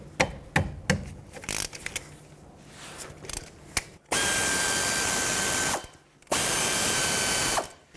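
A power tool spins out the two 14mm brake caliper bolts on a 2003-2008 Toyota Corolla: light metallic clicks and handling at first, then two loud, sustained whirring bursts close up with a short pause between them.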